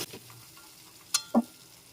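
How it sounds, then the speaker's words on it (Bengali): Potatoes fry in a pan under a faint sizzle, with a couple of sharp spatula clinks and scrapes near the end as they are stirred. "এখন একটু নেড়েচেড়ে ভেজে নিতে হবে আলুটাকে"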